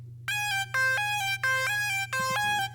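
A bright NI Massive synth lead plays four short repeated phrases, each note sliding down sharply at its end, over a steady low hum.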